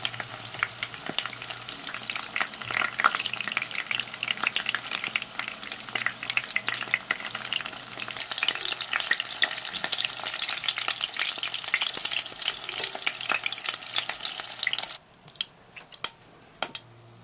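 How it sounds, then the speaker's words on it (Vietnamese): Tofu pieces fry in a pan, a dense, steady sizzle and crackle with scattered sharp pops running near and continuous, then dropping away abruptly toward the end to a quiet with a few faint ticks. "Trở mặt đậu để đậu được chín vàng đều ha."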